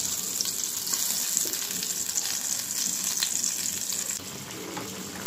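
Fish frying in hot old oil gives a steady, close hiss and crackle that runs without a break, with faint spatters over it.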